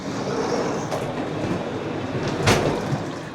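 A BR110 locomotive-hauled regional train on the RE19 line between Düsseldorf and Emmerich rumbles steadily, with continuous rolling wheel noise and a brief louder burst partway through, no voices.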